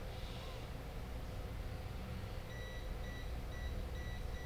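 Continuity beeps from a multimeter probing a shorted Moto G2 circuit board, a faint repeating series of short high beeps over low background hum, starting partway through.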